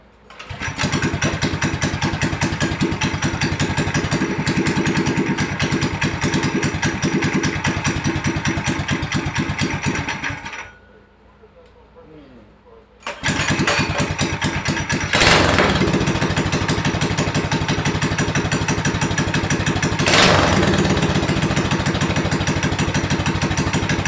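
A Predator 224 engine with its governor removed powers a Baja 165 minibike on a test ride, roaring loud and close, dropping to a brief idle lull, then revving hard again with surging pitch.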